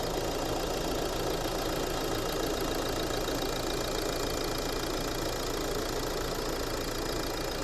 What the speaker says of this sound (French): Je vous laisse écouter le moteur.